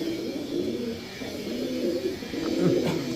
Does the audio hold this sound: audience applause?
no